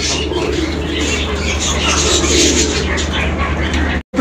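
Fancy pigeons for sale coo and flutter amid a dense, noisy background of birds, loud and continuous, ending with a sudden brief cutoff.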